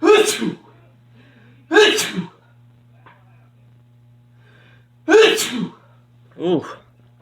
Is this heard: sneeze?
yes